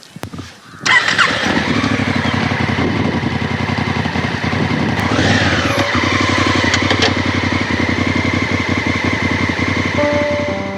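Honda Africa Twin motorcycle riding a trail around Bhor, its engine droning steadily and loudly close by from start to finish, with the pitch rising and falling as the throttle changes.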